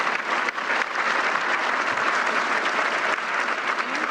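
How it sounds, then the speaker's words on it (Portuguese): Applause at a presidential event: a dense, loud crowd clapping that runs steadily throughout, with no voices over it. "nesse momento teve aplausos"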